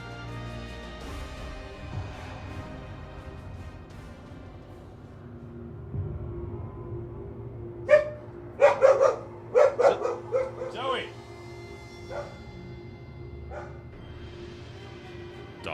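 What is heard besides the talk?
dog barking excitedly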